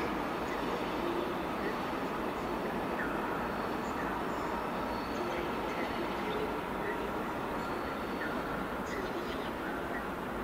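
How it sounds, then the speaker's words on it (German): Train pulling out of Zurich main station, a steady rolling rumble and hum under the echoing hall ambience, moderately distant, with faint chirps and station background throughout. "Gleis 8, bitte Vorsicht, der Zug fährt ab."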